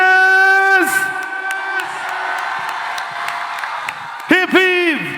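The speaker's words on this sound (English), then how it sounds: "Big round of applause for Eva Bhiwandi teachers." A crowd at a school annual day cheers and applauds the teachers, with loud sustained whoops and shouts rising and falling over scattered clapping, and voices calling out near the end.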